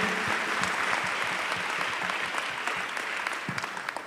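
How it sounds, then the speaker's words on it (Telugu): A church congregation claps loudly and steadily for several seconds, a dense wash of applause filling the hall with no voices over it. "గట్టిగా చప్పట్లు కొట్టి యేసుకి మహిమ చెల్లిద్దాం."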